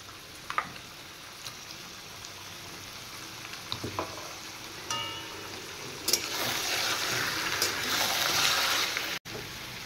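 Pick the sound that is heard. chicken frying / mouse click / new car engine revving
chicken frying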